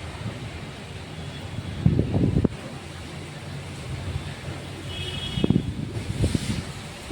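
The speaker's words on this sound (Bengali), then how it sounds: "কতটা জোরে হাওয়া আসছে চারিদিকে এই যে হাওয়া মানে সব গাছগুলো এত জোরে জোরে নড়ছে" Strong cyclone Remal winds blowing around a house and shaking trees, heard as a continuous rush with two louder buffeting gusts hitting the microphone.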